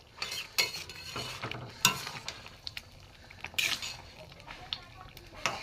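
Ash gourd and mung dal cooking in a pot, heard as soft bubbling broken by scattered clinks and scrapes of a utensil stirring against the vessel, close and fairly quiet with no talking.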